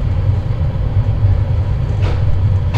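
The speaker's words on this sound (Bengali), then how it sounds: "11:43-এ ছাড়লো ট্রেন" Turna Express from Chittagong to Dhaka pulling out of the station: a loud, close, continuous low rumble of rolling railcars, with a brief hiss of brakes or air near the end.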